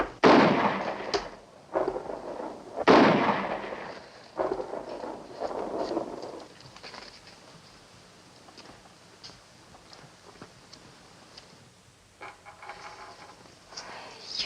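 Gunshots as a man shoots squirrels, a series of loud sharp blasts with booming decay in the first several seconds, then fading to quieter background with a few faint later sounds, no talk.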